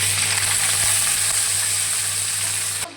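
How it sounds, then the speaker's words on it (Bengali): Onions sizzle and fry steadily in a generous amount of white oil after potatoes were fried, a loud continuous crackling hiss with no talk, cutting off abruptly near the end. "নিয়ে নিচ্ছি আবারও সাদা তেল একটু বেশি পরিমাণ। এরপর দিয়ে দেবো পেঁয়াজগুলো"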